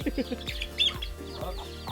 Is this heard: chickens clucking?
yes